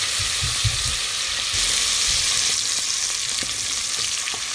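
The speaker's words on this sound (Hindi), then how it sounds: "ये देखिए हंडिया में मैंने ऑयल डाला है, गर्म हो चुका है, तो अदरक लहसुन हम इसमें डालेंगे" Ginger and garlic fry in hot oil in a handi, giving a steady, close sizzle with a few stirring knocks in the first seconds and no voices.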